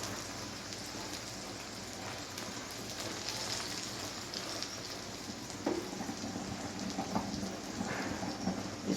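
An egg and a square paratha fry in a pan: a dense, steady crackling sizzle like hard rain, continuous and close, with a few louder pops near the end.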